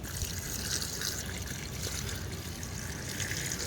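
A steady stream of water pours and gurgles into a pot of tapioca for boiling with crab, continuous and close, with no voices over it.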